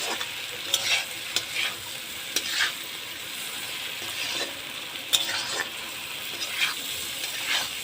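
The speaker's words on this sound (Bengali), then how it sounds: "মশলাটাকে ভালো করে একটু কষে নেব।" Spice paste (masala) with ground coriander and green chillies frying in a pan, stirred with repeated scraping clicks over a soft steady sizzle, close and fairly quiet, with no talking.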